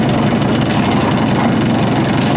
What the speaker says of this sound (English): Yep, engine's warmed up, ready when you guys are